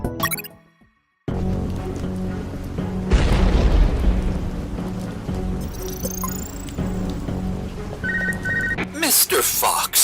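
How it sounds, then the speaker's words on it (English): A platform collapses with a deep booming explosion in the UnMetal video game, a loud rumbling blast followed by sustained crashing debris and game music, with electronic beeps near the end. "The platform collapsed after the ballistic abuse from all the missiles."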